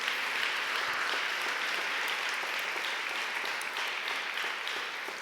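A church congregation applauds in steady, dense clapping that fills the space for the whole stretch, fading slightly toward the end.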